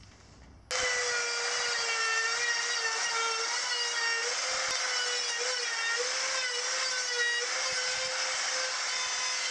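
A router cuts a taper along a wooden mast stave for a small boat, a close, loud, continuous high whine with wavering pitch as the bit runs along the wood.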